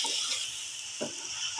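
Chopped ridge gourd (turai) hits a hot pan and is stirred, giving a brief soft sizzle with a couple of spoon scrapes against the pan.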